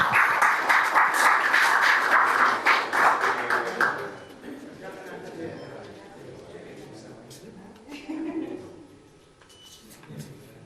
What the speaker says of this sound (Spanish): un fuerte aplauso para Randy Granville